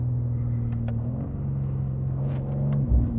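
Low steady engine rumble from a road vehicle in Morocco as a small moped rides by, a constant drone with a slight swell near the end and no talking.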